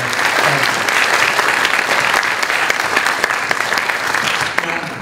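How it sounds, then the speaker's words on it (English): Audience round of applause for event partners at a talk on life in Japanese American internment camps, steady loud clapping from a roomful of people throughout the few seconds, with no voices over it. "So how about a round of applause for all of our great partners."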